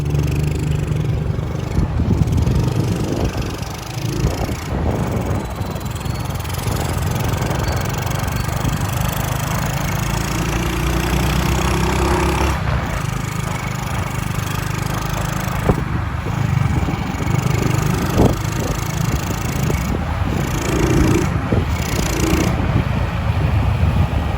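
A Honda XRM 110 motorcycle engine with a newly changed carburetor sputters and chugs unevenly, running loud and close with steady rough idling noise and occasional clattery scrapes, no talking.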